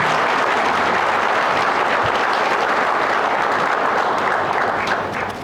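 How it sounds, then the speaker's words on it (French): A crowd at a Burkina Faso mining event applauds the defense and security forces, steady loud clapping filling the space throughout and easing slightly at the very end. "Je vous demande de les applaudir, de les honorer s'il vous plaît"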